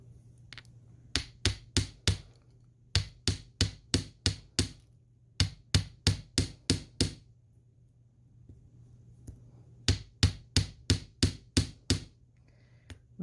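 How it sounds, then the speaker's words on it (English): A chasing hammer strikes metal rings on a hard block in quick bursts of sharp, ringing taps, several runs of five to eight blows separated by short pauses, close and clear over a low steady hum. "And here's our chasing hammer. And what we want to do is flatten these rings out quite a bit"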